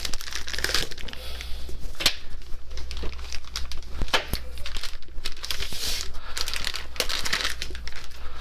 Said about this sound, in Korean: 이 클러치 팩 박스를 한번 개봉을 해볼게요.